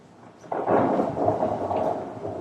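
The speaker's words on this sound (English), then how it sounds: "It's starting to rain harder." Heavy rain with thunder: a loud, steady wash of rain breaks in after a quiet start, with a deep rumble of thunder rolling underneath, and no voices.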